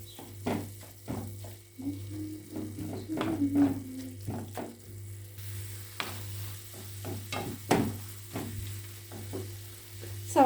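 A spoon stirs a stuffing of aromatics with garlic as it fries in a pan: a steady low sizzle runs throughout while repeated scraping strokes come at an irregular rhythm, close and clear, with no talking.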